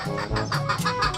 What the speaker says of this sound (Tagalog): At ay ingay po ng inahin dahil